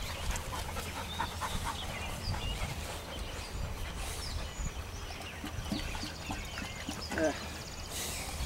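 Several dogs pant and shuffle about nearby, with soft footfalls and rustling running steadily throughout while a person speaks to them.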